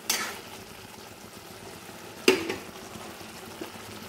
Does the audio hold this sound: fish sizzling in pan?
yes